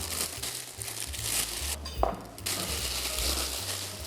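Plastic piping bag crinkling and rustling as it is handled for a mousse in a kitchen, close and continuous with a few soft knocks, no talking.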